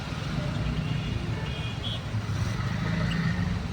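A steady low rumble of idling and crawling vehicles in a traffic jam on the road from Bommasandra to Hosur, with faint horn-like tones drifting in over a constant, moderately quiet background.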